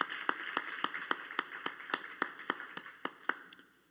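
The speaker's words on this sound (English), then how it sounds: "huge round of applause." A single person claps slowly and evenly at a devotional program, about a dozen distinct claps in steady rhythm, fairly faint against a quiet room.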